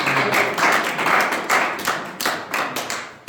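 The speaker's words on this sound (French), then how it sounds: "Acclamez pour les nouvelles révélations." Church congregation applauding during a worship service, a loud run of rhythmic claps close by with no talking.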